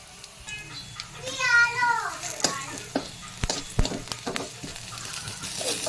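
Onion, green chili, curry leaves and ground masala sizzle and crackle in a pan for a ladies finger fry, with scattered clicks and scrapes of stirring and a voice rising briefly in the background.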